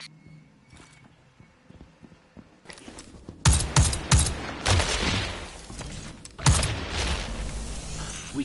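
Gunfire in the Destiny 2 video game, shooting at yellow sacks: after a quiet start, a dense burst of rapid shots breaks out, loud and close, followed by a second volley, with no talk over it.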